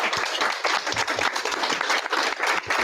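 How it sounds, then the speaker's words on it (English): An audience at a book talk applauds, a dense, steady wash of many hands clapping close and loud throughout, with no voices over it. "Let's give John another round of applause."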